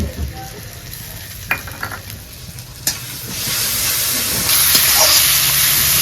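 Ginger garlic paste hitting a hot pan with melted tomato, giving a close hiss and sizzle that grows louder and steadier. Scattered clicks and scrapes of stirring sound over it.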